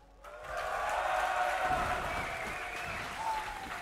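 A crowd at a Dreamhack League of Legends match cheers and applauds loudly and continuously, a dense wash of clapping with shouts that swells and holds throughout.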